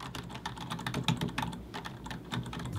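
Fingers type steadily on a cheap, basic membrane computer keyboard with low-raised, well-spaced keys, which sold as part of a budget keyboard and mouse combo. The keystrokes come as a dense, continuous patter of close, soft clicks with no speech.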